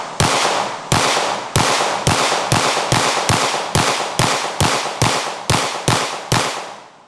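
Fifteen gunshots fired in quick succession at cheap soft body armor, loud, sharp reports spaced about half a second apart, each ringing off briefly before the next, with no talking.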